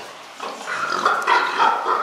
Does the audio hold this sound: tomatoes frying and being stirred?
no